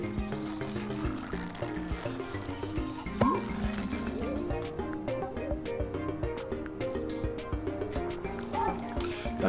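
Barking from a dog in a video game, heard in short yips and bow-wows over a steady bed of game music and effects, with someone talking throughout.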